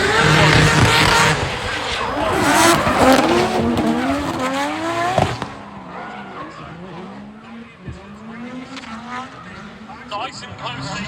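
A 3-rotor Volvo estate drift car screams at full throttle, its rotary engine wailing up and down through revs with tire squeal, loud and close before fading, while a commentator talks over it at a drift event.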